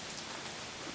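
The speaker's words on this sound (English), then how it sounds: "Still raining a little bit." Light rain pattering steadily on and around a trail shelter, a soft even hiss with faint scattered drops and no voices.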